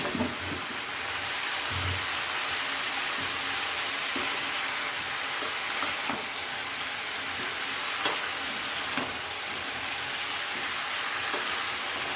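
Pumpkin and ridge gourd fry in a pan for a Bengali mixed winter vegetable dish, giving a steady, even sizzle that continues without a break and with no voices.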